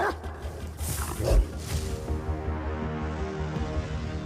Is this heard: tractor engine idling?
no